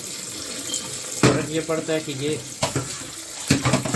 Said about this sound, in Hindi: साथ में हम ठंडा पानी खोल लेंगे और इसके अंदर डालेंगे